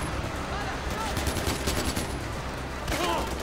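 Rapid automatic gunfire in the Far Cry 4 video game, a dense continuous burst of shots close and loud, with a voice briefly audible among the firing.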